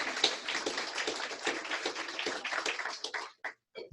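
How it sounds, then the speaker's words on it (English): A round of applause for a woman named Helen at a company town hall, dense scattered clapping from a small group, fairly faint, dying away into a few last claps at the end. "Let's give Helen a round of applause"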